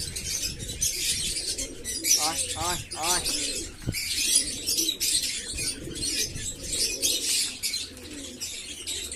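Pigeons at Sunday feeding time, being given multivitamins and squabbling, coo and chirp steadily nearby with occasional wing flaps, while a person repeatedly calls out to draw them in.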